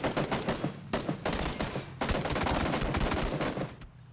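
Gunfire in PUBG (PlayerUnknown's Battlegrounds), several loud rapid bursts of shots close by, separated by short gaps, with no voices over them.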